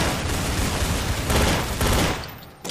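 Sustained automatic gunfire from Counter-Strike: Source, a dense, loud rattle of rapid shots running nearly the whole time before tapering off at the end.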